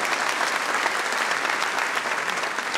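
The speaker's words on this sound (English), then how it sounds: "let's start, and you can applaud here" An audience at a Roy Firestone show claps for Wilt Chamberlain, giving a dense, steady applause from a crowd that fills the room throughout.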